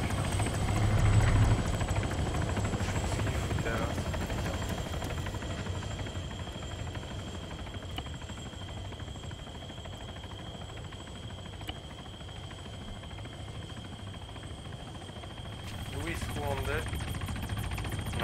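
A helicopter in the Arma 3 Altis Life video game drones with a steady, even rotor and engine whine throughout, while players talk over it.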